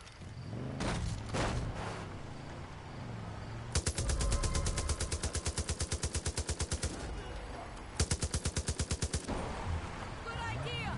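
Gunfire in Far Cry 5: rapid automatic bursts, one long volley then a shorter one, loud and close, with a voice talking in between.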